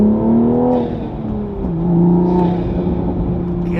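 A Toyota Supra engine revs hard and rises in pitch, drops back, then climbs again, loud and close, with no talking.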